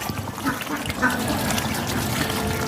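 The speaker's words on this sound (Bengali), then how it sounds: "ওই যে দেখো এই যে হাঁস এই যেগুলো দেখেন" Domestic ducks quack a few times near a village home, short nasal calls standing out over a soft background of trickling and faint voices.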